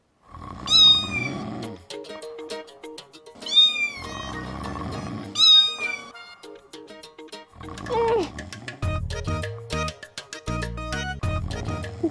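A voice imitates a cat, giving several drawn-out meows in bursts, with squeaky cartoonish tones and music-like accompaniment between them.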